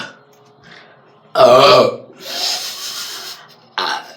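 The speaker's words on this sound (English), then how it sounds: "you gotta get these burps going" A loud, drawn-out burp after drinking erupts close to the mic, followed by breathy sounds and a second shorter burp.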